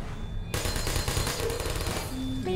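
Rapid turret gunfire in the Portal video game rattles in a dense, loud burst that starts abruptly and keeps going, with a couple of short electronic tones near the end.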